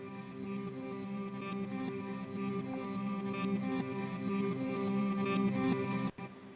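Reversed electric guitar swelling in as a slow-building intro motif, a dense sustained tonal wash that stays steady and loud before cutting off abruptly near the end, with no voices.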